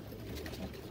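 A pigeon coos in a brief, continuous low murmur, close and steady, with no voices.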